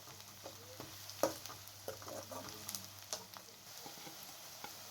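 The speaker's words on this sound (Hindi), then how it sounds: "सबसे पहले मैंने कढ़ाई के अंदर हाफ़ कप कुकिंग ऑयल को शामिल किया है और इसके अंदर प्याज को डाल दें।" Onions and garlic fry in half a cup of cooking oil in a wok over medium flame, giving a faint, steady sizzle broken by soft stirring scrapes and light pops, with no talking.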